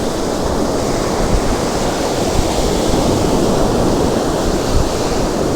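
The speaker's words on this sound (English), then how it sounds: "That wind's picked up a bit as well. It's getting quite choppy out there now." Choppy sea surf and gusting wind roll steadily at Withernsea beach on the Yorkshire coast, a loud, broad, unbroken roar of waves with wind buffeting the microphone and no voices.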